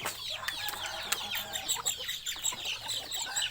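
Chickens on a small farm cluck repeatedly, with short overlapping calls rising and falling close by, over faint background noise.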